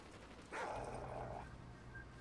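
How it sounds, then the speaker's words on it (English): A guard dog in the video game Call of Duty: Ghosts lets out one drawn-out bark or yelp over steady, noisy in-game background sound. "another guard dog. Guard dog ready."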